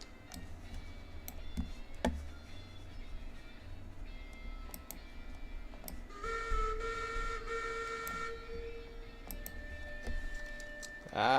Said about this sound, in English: I hear a horn.